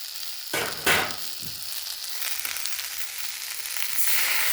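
Ground coriander, cumin, hot chilli powder, Kashmiri chilli powder and green chillies fry in a pan for a village-style cauliflower and koi fish curry. A steady close hiss runs throughout, with a couple of short louder bursts early on.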